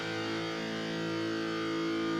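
An electric guitar chord rings out with heavy distortion, a steady sustained buzzing tone held throughout without any talking.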